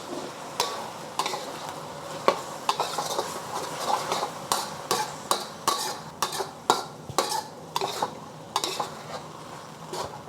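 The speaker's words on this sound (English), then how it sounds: "Okay, adding the sauce. I'm going to let this cook for about a minute." Chili crisp noodle sauce cooking in a pan, with repeated sharp utensil scrapes and clacks against the pan in an irregular rhythm over a soft, continuous sizzle, close up and with no talking.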